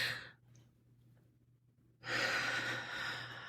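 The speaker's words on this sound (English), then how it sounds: "can we just take a deep breath?" A deep breath taken during a breathing exercise: a soft intake, a pause, then a long, loud, airy exhale, close to the mic with no speech.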